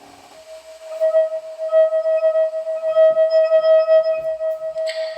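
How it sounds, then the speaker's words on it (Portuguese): A wine glass rings with a single steady, pure tone at its resonant frequency. The note swells and pulses gently over several seconds, and there is a faint clink near the end. "essa nota musical que a gente está ouvindo,"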